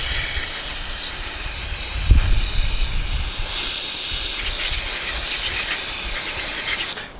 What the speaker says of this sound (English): Spray the chem tool through there.